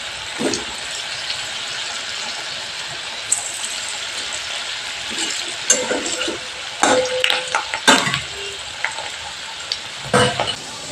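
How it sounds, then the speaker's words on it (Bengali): Carrot-filled puli dumplings fry in hot oil with a steady broadband sizzle, broken by sharper crackles and pops toward the end as more pieces go into the pan. "এবার পরের পুলিগুলো তেলের মধ্যে দিয়ে আমি ভেজে নেব।"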